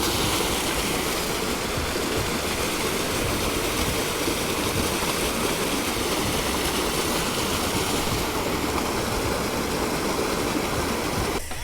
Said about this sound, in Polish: Ale rzeczka, fajna, strumyczek.